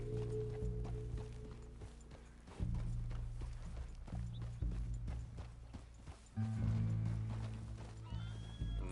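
Horse neighs and whinnies with hooves clip-clopping over a steady low background drone, the hoofbeats shifting rhythm and pace throughout, in the video game Red Dead Redemption 2.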